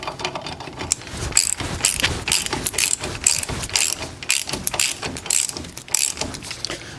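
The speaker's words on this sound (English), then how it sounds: "So back this nut off a ways, but leave it attached." A ratchet wrench clicks rapidly as it backs a ball joint nut partway off a vehicle's steering knuckle, loud and close, in continuous bursts of ratcheting with no talk.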